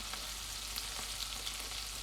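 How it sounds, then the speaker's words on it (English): Soft, steady sizzling of food frying in a pan, a quiet crackling hiss with tiny pops scattered throughout. "that is sizzling too much, so I'm going to turn it right down"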